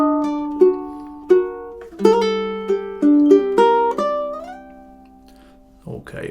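Measures three and four of Tárrega's Adelita on solo ukulele, a run of clean plucked notes and a few ringing chords at a gentle pace, close and clear, with a brief voice entering at the very end.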